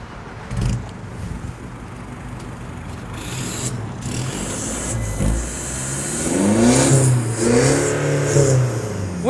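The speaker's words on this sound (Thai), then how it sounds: "ขอลองฟังเครื่องหน่อยได้ไหมฟังเสียงท่อหน่อย อยากรู้ว่าท่อมันจะดังไหม" An Isuzu pickup fitted with an S-Sporty body kit revs its engine, the exhaust note climbing through several rising and falling throttle blips, loud and close, with the revs building higher toward the end.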